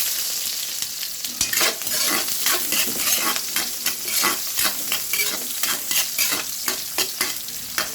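Garlic and onion frying in hot oil in a pan, a steady close sizzle broken by regular scraping stirs throughout, with no talk.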